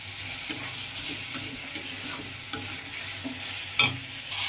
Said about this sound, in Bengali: এই যে গোটা কাঁচা লঙ্কা ফেলে দিলাম।